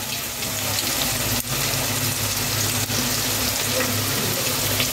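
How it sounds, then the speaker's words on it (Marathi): Curry leaves, garlic and cumin sizzling in hot oil in a pan, a loud, dense, continuous crackling hiss with a couple of brief dips, close up and alone. "तेल छान गरम झालेलं आहे तर मी कढीपत्ता ॲड करून घेतलेला आहे"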